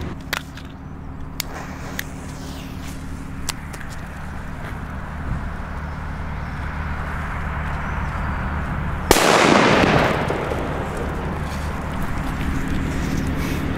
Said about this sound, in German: Jetzt als nächstes kommen die Thundercracker D. Das sind auch P1 Böller.